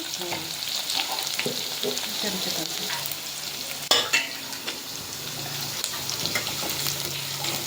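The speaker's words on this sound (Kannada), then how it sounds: "ಸ್ವಲ್ಪ ಕಲರ್ ಚೇಂಜ್ ಆಗತ್ತನ ಫ್ರೈ ಮಾಡ್ಕೊಳ್ಳಿ" Garlic and coriander frying in a pan for a North Karnataka home-cooked festival meal, a steady close sizzle with stirring scrapes and a sharp clatter near the middle, no talk.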